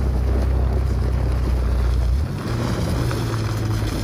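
Chevy ZR2 Bison truck climbing a steep icy hill, a continuous low engine rumble with wind buffeting, the tone dropping briefly midway then settling into a steady lower drone.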